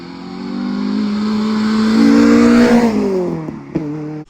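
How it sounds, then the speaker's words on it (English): A Renault Clio 182 fitted with a Piper exhaust revs up close, the engine climbing in pitch and holding a loud, raspy note before dropping back and cutting off abruptly. "It's got a Piper exhaust"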